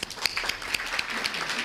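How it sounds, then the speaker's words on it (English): Brief burst of audience applause at a summit gathering in a community setting, a mid-level wash of many hands clapping with a few sharper claps standing out, steady and moderately distant. "Give her a round of applause, yeah?"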